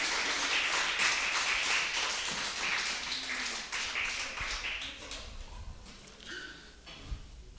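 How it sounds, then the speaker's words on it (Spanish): Church congregation applauding during a Sunday service: dense, continuous handclapping from a crowd that holds steady and then thins out toward the end. "Dale un fuerte aplauso a nuestro Señor,"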